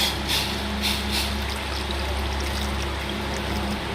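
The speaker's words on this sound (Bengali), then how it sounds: "গরম জলটা ঢেলে মাংসটা সেদ্ধ হওয়ার জন্য আবারও ঢাকনা দিয়ে রেখে দিয়েছিলাম।" Hot water is poured into a pot of mutton curry with fried potatoes, a steady close splashing stream continuing for several seconds over a low background hum.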